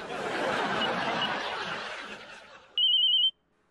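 A burst of noisy, laughing commotion fades, then a single short electronic telephone ring trills clearly before silence.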